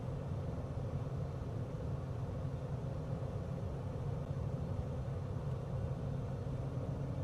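A steady, even engine drone of an aircraft climbing after takeoff in Microsoft Flight Simulator, continuous and unchanging broadband rumble with no other sounds over it.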